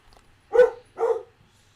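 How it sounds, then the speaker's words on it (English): Dogs give two short, sharp barks about half a second apart, close and fairly loud, in an otherwise quiet indoor room. "Dogs."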